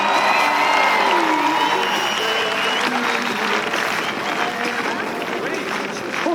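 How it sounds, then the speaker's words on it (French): Audience applause at a rodeo show at a horse festival in St Agrève, Ardèche, a dense sustained clapping and crowd noise at steady loudness, with cheering mixed in and an announcer's voice faintly under it. "Marcelo Pedrini et Manuel Gianni, on les applaudit."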